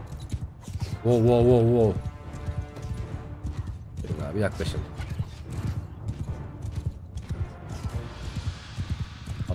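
Horses galloping in Mount & Blade II: Bannerlord during a stone-bridge battle, a steady thudding clip-clop of massed hooves running throughout beneath someone talking and brief game sounds.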